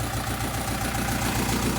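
Tractor engine idling steadily with its doors open, a continuous low throbbing rumble with a mechanical vibration, close and moderately loud, with no talking.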